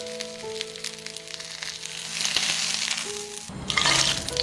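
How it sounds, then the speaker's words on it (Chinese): Green peppers and eggs frying in lard in a pan, a moderate sizzle that swells and grows louder toward the end, playing under soft background music. "锅里的猪油不要浪费，把青椒和鸡蛋煎出虎皮"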